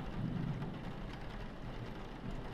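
Steady rain in the video game The Mortuary Assistant hisses and patters continuously at a moderate level, with a low rumbling undertone beneath the downpour.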